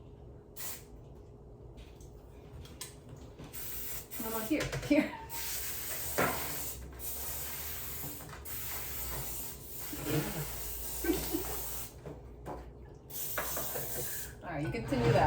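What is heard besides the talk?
cooking oil spray being sprayed while baking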